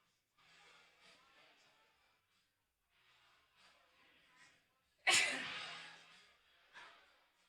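A single sharp, loud sneeze bursts out near a microphone during pool tournament commentary, after quiet murmured talk. A smaller breath or sniff follows a moment later.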